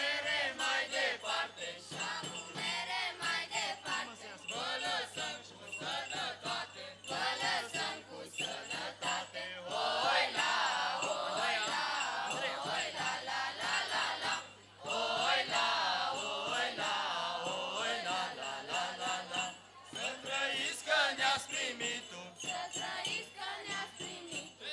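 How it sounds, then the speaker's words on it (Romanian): Audience at a carol festival applauding a group of carolers, steady dense clapping sustained throughout with brief dips, crowd noise mixed in, fairly loud and close. "Să-i aplaudăm și să le mulțumim, colindători."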